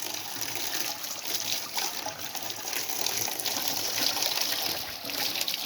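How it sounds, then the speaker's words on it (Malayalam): Rinse water from a filter backwash pours out in a steady, moderately quiet gush and trickle, continuous and alone. "ഒത്തിരി കൂടി വെള്ളം പോയിക്കോട്ടെ."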